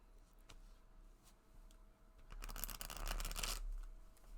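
Tarot cards shuffled slowly by hand during a reading, a quiet papery riffle that builds to a denser, louder flurry midway and then stops, with faint ticking handling noises before it.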